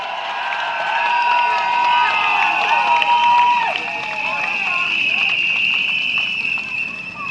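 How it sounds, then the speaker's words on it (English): A large crowd at a Tampines election rally in Singapore cheers and applauds, a dense, sustained roar with whistles and shouts that stays loud throughout and tapers slightly at the end. "Let's give ourselves a big round of applause."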